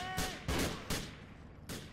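Pistol gunfire in GTA 4 The Lost and Damned, four sharp loud shots spaced irregularly over about two seconds, no talking.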